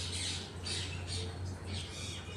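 Pet parrots squawk loudly in repeated harsh bursts of roughly half a second each, kept indoors at home, over a steady low hum and a faint voice.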